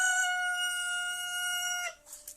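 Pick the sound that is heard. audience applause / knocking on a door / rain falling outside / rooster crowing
rooster crowing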